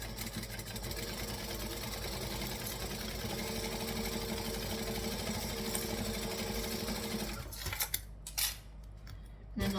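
Sewing machine stitching forward and back through thick material, a steady mechanical whirring run that breaks into short stop-start bursts at the end, close and fairly loud.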